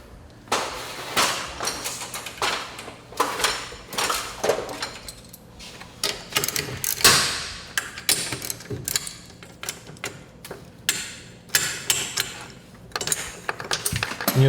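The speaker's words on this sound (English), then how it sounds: "we'll go to one side and we will loosen the drum" Metallic clanking and tool clatter while loosening the cable drum on a garage door torsion spring assembly, a series of sharp close knocks and scrapes with no talking.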